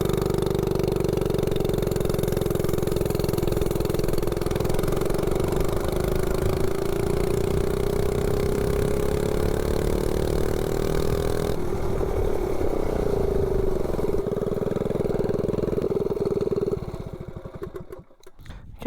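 A 98cc Rascal mini bike with a slide carb and header pipe accelerates from 0 to 30, its engine a loud, close, steady buzz rising slowly in pitch, then dropping away and fading near the end.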